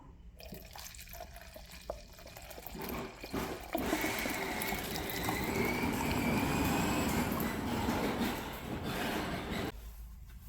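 Dirty cleaning solution from a soaked firearm suppressor pours out in a steady, splashing liquid stream with dripping, building to a continuous wash before cutting off.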